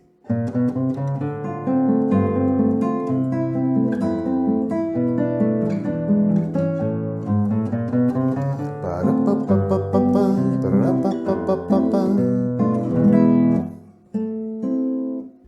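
Classical guitar plays a flowing tango-style chord progression from the first movement of a piece, full and steady, with plucked bass notes and strummed chords, ending with a brief pause before resuming.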